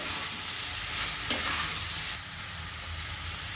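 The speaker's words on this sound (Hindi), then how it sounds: "अभी हम सब्जी को अच्छे से मिक्स कर लेंगे" A spoon stirs capsicum and potato sabzi around a hot pan, giving a steady, close sizzle with a few scraping knocks scattered through it.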